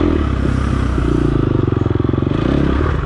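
A dirt bike engine at an offroad race sputters and labors near stalling, a loud, rough low-revving chug with clattering pulses that nearly die away before picking back up.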